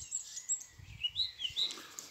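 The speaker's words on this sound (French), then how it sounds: "je ne sais pas si vous allez entendre beaucoup d'oiseaux" Faint, brief bird chirps and tweets sound outdoors in short high bursts against a quiet background.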